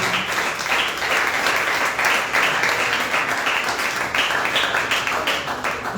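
A church congregation claps loudly and steadily during a service, a continuous dense patter of many hands with a slightly rhythmic pulse, close and filling the room for several seconds without pause.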